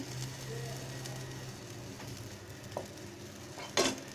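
Boiled egg fry sizzling in a pan with a soft, continuous crackle and a couple of brief utensil scrapes, the last one louder and sharper near the end.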